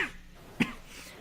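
A single sharp cough from someone getting over a cold, close and fairly loud, breaking a near-silent room for a brief moment.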